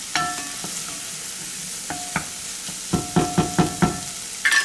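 Mushrooms and shallots cooking in a pan with a splash of Marsala wine: a steady low sizzle broken by scattered utensil scrapes, then a quick run of five or six close, rhythmic stirring strokes.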